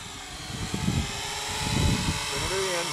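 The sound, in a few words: Syma X8C quadcopter drone flying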